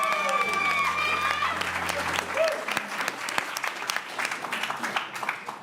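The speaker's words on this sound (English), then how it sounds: "Let's applaud that." An audience at a live main-stage show breaks into sustained applause. The clapping is dense and fairly distant, rising and then thinning out over several seconds, with some crowd murmur underneath.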